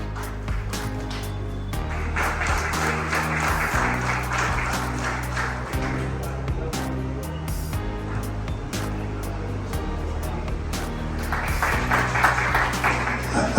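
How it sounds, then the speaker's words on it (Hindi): An audience claps to welcome a guest at an anniversary event in Mira Bhayander where tricycles for handicapped people are handed out. Sustained, dense applause with sharp individual claps runs over a steady droning tone for the whole stretch. "जोरदार तालियों से इनका स्वागत किया जाए,"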